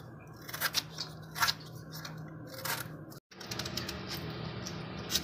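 Mangoes being peeled by hand, several short scraping strokes in an uneven rhythm over low background hum, close up with no talking.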